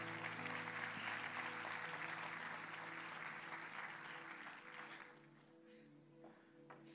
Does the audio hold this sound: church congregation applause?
yes